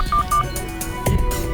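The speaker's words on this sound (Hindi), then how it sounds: "बेटा पुलिस को फोन करना।" A telephone is dialed to call the police: a few short electronic keypad tones beep in quick succession, close and clear, followed by brief clicks and handling noise.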